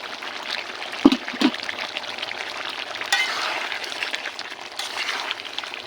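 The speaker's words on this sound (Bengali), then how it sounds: "মাংস কষানোর ভিতর দিয়ে দেব কাঁচামরিচ বাটা" Meat sautéing in a pan as green chili paste goes in, a steady soft sizzle with two brief clatters early on, no talk.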